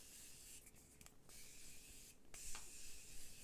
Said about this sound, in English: let's put some setting spray on